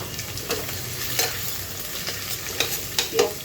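Chopped onions fry in a pan with a continuous crackling sizzle, punctuated by light scraping taps of a spatula stirring every second or so, close and moderately loud.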